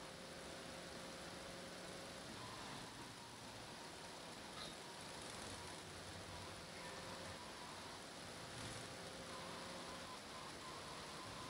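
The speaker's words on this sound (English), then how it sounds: "Oh, it's raining now. They make the rain look so realistic in this game." Rain falls in the video game Grand Theft Auto 3 as a faint, steady, even hiss that continues unbroken throughout, with a low engine-like drone beneath it.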